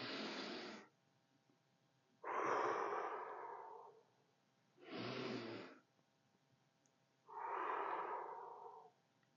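Slow, deep breaths during a hatha yoga practice, alternating between inhales and exhales, close and clear in a quiet room with four long breath sounds and silence between them.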